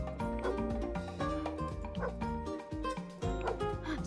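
In Roblox, a game dog barks repeatedly in short, bright, tonal yips, clearly heard and rhythmically spaced over several seconds, with light chatter alongside.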